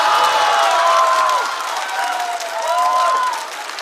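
Studio audience at a stand-up comedy show applauds and cheers for a few seconds, dense clapping fading slightly, with a loud voice speaking over it.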